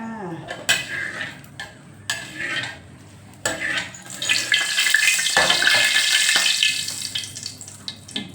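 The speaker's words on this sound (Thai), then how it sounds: "ผัดเห็ดโคนญี่ปุ่น กระเทียมเจียวของเรามีแล้วนะ ใส่เห็ดลงไป" Japanese mushrooms being stir-fried in a pan with fried garlic, with clanking of utensils and pan, a running tap, and rising sizzle as the mushrooms go in, close and moderately loud with no talk.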